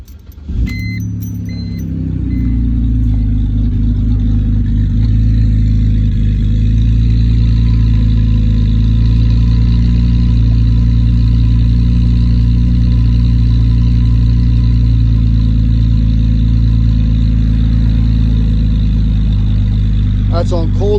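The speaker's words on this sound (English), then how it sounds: "what it sounds like with a nice exhaust modification" BMW X3 with an N52 engine and muffler-delete exhaust idling on a cold start, a loud, steady, deep drone close by that holds evenly throughout after a brief jingle of keys at the start.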